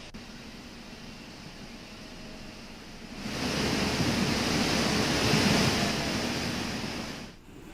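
Floodwater rushes through the swollen Jumma stream in monsoon-hit Uttarakhand, a broad, steady hiss that starts softer and then surges louder midway, continuing as a constant roar before briefly dropping at the end.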